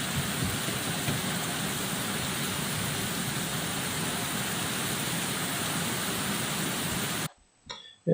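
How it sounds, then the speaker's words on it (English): Heavy rain from thunderstorms and flash flooding in Barcelona province, Spain, pours in a dense, steady hiss that stays loud for about seven seconds before cutting off abruptly. "Thunderstorms, flash flooding."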